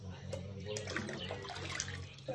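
Water pours into a container while liquid soap is being made, a steady rushing splash that runs throughout at moderate volume, with a voice talking over it.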